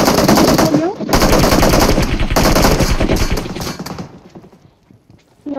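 Rapid automatic gunfire rattles in bursts during a close-quarters fight in the mobile battle royale game PUBG Mobile, loud and dense, then thinning into scattered distant shots.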